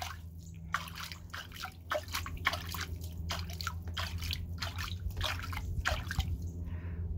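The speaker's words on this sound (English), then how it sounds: "She likes being sprayed by the hose" Water from a garden hose sprays and patters in rapid, irregular bursts over a pigeon bathing in a small pool, fairly close and steady throughout, with a low background hum underneath.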